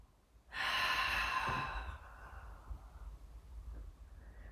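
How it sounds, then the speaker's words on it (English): A long, strong exhale during a core breathing exercise, loud and breathy for about a second and a half, then trailing into quieter room breathing and faint rustle, with no talking. "Exhale again."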